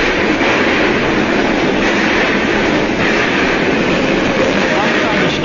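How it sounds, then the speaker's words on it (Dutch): A 1945 Dutch electric train on the new line to Haarlem pulls away, producing a steady, loud rumbling roar with faint rail clatter throughout, heard up close and without speech. "daar zet de elektrische trein zich in beweging"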